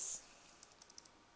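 A computer keyboard is typed on quietly, a handful of light, irregular key clicks after a brief faint hiss, with no voices.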